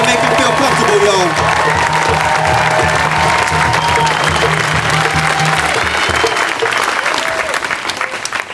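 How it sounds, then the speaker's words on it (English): A rally crowd claps and cheers loudly and steadily for the next speaker, with a low rhythmic music bed underneath for most of the stretch before it drops away. "Please clap it up and make him feel comfortable, y'all."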